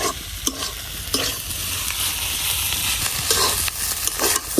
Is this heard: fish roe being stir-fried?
yes